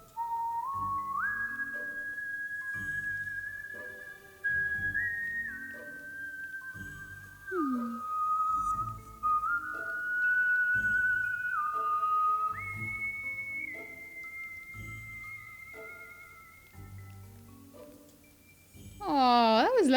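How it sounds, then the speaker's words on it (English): A video game character whistles a slow, relaxed tune in My Time at Sandrock, clear sustained notes stepping up and down in steady phrases over soft background music. "Whistling me tunes."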